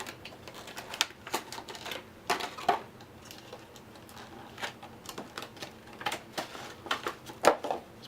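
Hands handle the plastic packaging of a Star Wars: Imperial Assault Echo Base Troopers miniatures pack. Light, scattered crinkles and clicks come in irregular bursts, soft and close.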